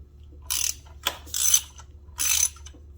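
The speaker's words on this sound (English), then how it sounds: "Next, I'm going to loosen the bolt for the toe shifter." A ratchet wrench loosens the toe shifter bolt on a Harley-Davidson touring motorcycle, giving several short, close bursts of rapid clicking separated by brief pauses.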